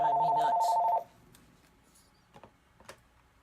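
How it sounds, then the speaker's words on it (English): A telephone rings with a brief electronic trill burst lasting about a second, followed by quiet room sounds and a few faint clicks and handling noises. "this phone's gonna drive me nuts"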